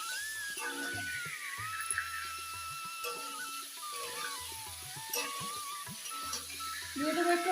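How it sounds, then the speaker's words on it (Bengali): Cauliflower florets frying in a pan for a home-style potato and cauliflower rohu fish curry, a steady soft sizzle running throughout with faint clinks and tonal background noise. "এই যে ফুলকপিগুলো ভেজে নেবো"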